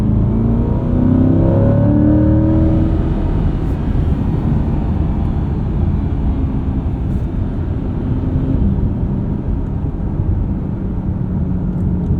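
A 2024 Chevrolet Corvette E-Ray driving, its engine giving a steady loud rumbling drone with a brief rise in revs near the start, then a constant hum and road roar, heard from inside without talk.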